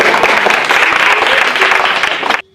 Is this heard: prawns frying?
no